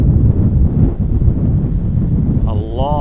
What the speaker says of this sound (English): the wind gust almost took the tripod over, tilted it over